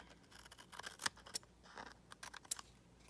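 Scissors hand-cutting leftover paper scraps for a holiday card, a few quiet, sharp snips spaced irregularly against a faint rustle, close by.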